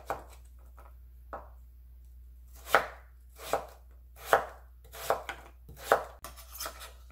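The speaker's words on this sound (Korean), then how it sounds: "그리고 나박썰기 해줍니다." A knife chops radish into thin square slices for kimchi, six or seven sharp, separate knocks on a cutting board spaced roughly a second apart, close and crisp with quiet pauses between strokes.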